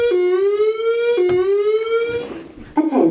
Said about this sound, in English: We are investigating an alarm condition.